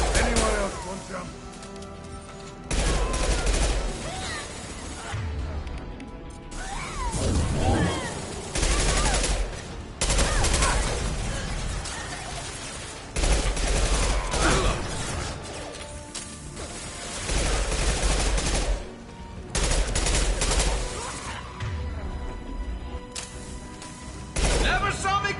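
Mass Effect 2 combat with gunfire and sniper shots: loud, dense bursts of shooting and mechanical clatter, with impacts and crashes in a busy, continuous mix under spoken voices.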